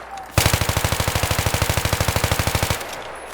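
A fast-firing automatic weapon in the Battlefield 3 video game lets off one loud, unbroken burst of rapid, evenly spaced shots lasting a little over two seconds, then stops.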